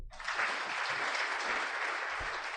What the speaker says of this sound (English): Can we give another big clap as well to BDO?